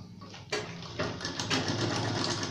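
An electric sewing machine stitches the back seam of a ladies' pajama pant in short bursts, its close, whirring motor starting, pausing briefly and running again.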